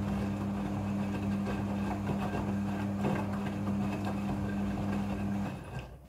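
A Midea front-loading washing machine running its wash cycle, giving a steady droning hum with a constant low tone and soft churning noise that fades slightly at the end.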